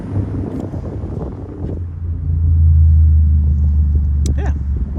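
A 1996 Toyota Mark II Grande 2.5 JZX100 engine rumbles as it starts and settles into a steady, close idle, with a brief rustle of wind or handling noise near the end.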